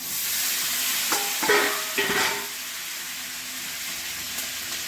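Steady loud sizzling of black cumin seeds hitting hot oil, with a few brief stirring scrapes partway through.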